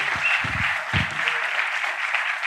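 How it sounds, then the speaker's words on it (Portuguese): A church congress audience breaks into applause, a dense wash of clapping at full volume throughout, with a few low muffled thumps near the start. "Vamos dar um aplauso a Jesus pela vida deles."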